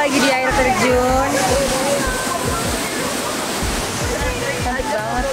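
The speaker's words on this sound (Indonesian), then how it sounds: "Kita lagi di air terjun." A waterfall in Bali roars loudly and continuously with rushing, splashing water, while voices are heard faintly beneath it.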